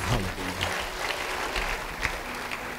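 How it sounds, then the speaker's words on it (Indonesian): Church congregation applauding at a sermon, a sustained soft patter of many hands clapping, fairly distant, with faint voices beneath. "Beri tepuk tangan bagi Tuhan"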